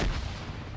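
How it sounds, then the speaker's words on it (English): A pineapple grenade exploding in the military game Arma 3, a single low, booming blast that quickly fades into a short rumbling tail. "threw a perfect pineapple grenade on him"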